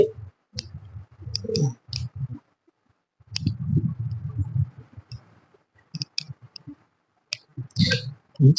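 Computer mouse clicks while selecting a captcha on a pensioner life-certificate web form: sharp, scattered clicks close up, some in quick pairs, with someone talking between and over them.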